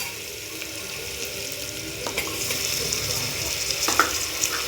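Tomato sautés in a pan for aamti with a low, steady sizzle, stirred now and then with a few light clinks of a utensil.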